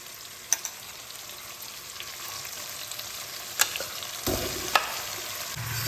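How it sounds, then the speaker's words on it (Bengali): Marinated chicken added to softened tomato and spices frying in a pan, a faint continuous sizzle with occasional sharp clinks of a utensil against the pan and a burst of louder sizzling near the end. "ম্যারিনেশন করা চিকেনটা আমি এর সঙ্গে অ্যাড করছি"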